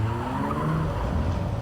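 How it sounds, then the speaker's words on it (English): A car in Cyberpunk 2077 pulls away with a screech of skidding tires, a steady close roar of engine and rubber lasting under two seconds with no talk over it. "Damn, I'm barely out the car and he's already driving away."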